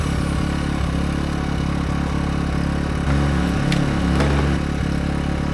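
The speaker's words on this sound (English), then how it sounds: "run the Dremel, no problem" A Dremel rotary tool runs off a 1600-watt gas portable inverter generator outdoors, the generator's steady droning hum under the tool's whine, which shifts pitch briefly midway.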